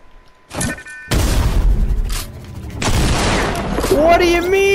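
Grenades bursting in the video game Fortnite, a sharp boom followed by a thick, loud rumble of explosions and crackling debris, with a whooshing whine rising near the end and a voice briefly heard.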